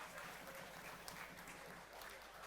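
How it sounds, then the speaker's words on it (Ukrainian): A stadium crowd at a Niva versus Metalurh football match applauds footballer Dmytro Haladei, a steady, distant wash of clapping that runs evenly throughout. "І знову отримує хвилю оплесків на свою адресу"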